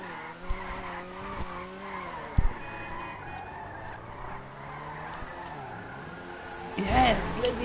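Cardboard car drifting in GTA Online, with engine drone and repeated tire skids and squeals, a louder burst of skidding near the end, while people talk over it.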